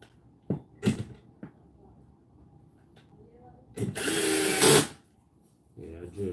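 Power drill driving into an IKEA MALM 6-drawer dresser during assembly, with a few short clicks and knocks, then a loud sustained whirring burst of about a second, close up, and some brief talk.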